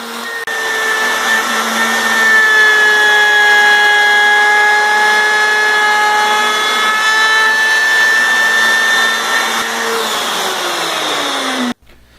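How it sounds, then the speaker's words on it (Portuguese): Wood router fitted with a 5 mm straight bit cutting a series of mortise plunges into dining table stock, a loud steady high-pitched motor whine with shifting tones that holds for about ten seconds, then drops as the motor winds down. "E fiz as furas usando a tupia com uma fresa paralela de 5 mm, realizando uma série de cortes em uma das extremidades da marcação"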